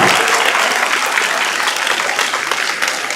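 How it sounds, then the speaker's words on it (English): Audience applause at a university engineering robotics competition, loud steady clapping from a crowd throughout. "Round of applause for those guys."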